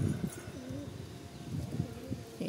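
Several pigeons released outdoors to sun on a very windy day give soft, repeated low coos that rise and fall across the clip over steady wind noise.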